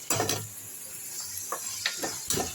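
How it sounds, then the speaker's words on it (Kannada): Frying for a kadai mushroom curry crackles softly in a pan, with a few spoon scrapes and taps as it is stirred, close and moderately quiet. "ಇವಾಗ ಅದು ಫ್ರೈ ಆಗ್ತಾಯಿದೆ."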